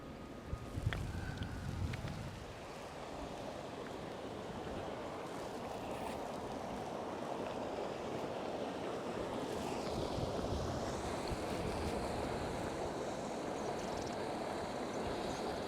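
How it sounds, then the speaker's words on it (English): Water pours over Ashline Sluice, a lock with a drop of about seven or eight feet on the Whittlesey Dyke, making a steady, dense roar that is loud and continuous, with a faint thump near the start. "That's Ashline Sluice or Ashline Lock, if you prefer. I think there's a drop of about 7 or 8 foot"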